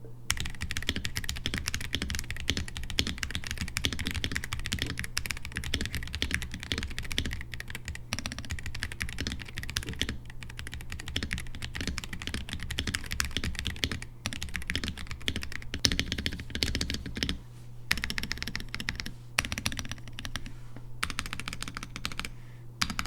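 Continuous typing on a mechanical keyboard, a dense run of crisp key clacks with an occasional heavier stroke, close and steady throughout with no talking.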